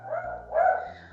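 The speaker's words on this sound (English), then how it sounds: "She'll just bark and bark until the thing goes away." Daisy, a dog, gives two quick barks, the second louder and sharper, close and clear over a low background hum.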